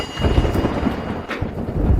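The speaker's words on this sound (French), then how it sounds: "Non, monsieur Shen, j'ai entendu qu'un orage allait éclater." Low rumbling thunder rolls on through a storm as it begins to break, with rain hissing steadily underneath; nobody speaks over it.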